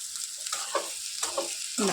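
Bitter gourd (kakarakaya) slices fry toward crispness in hot oil for a Rayalaseema-style fry, giving a soft background sizzle. A few brief scraping stirs sit on top, faint and close, with no speech.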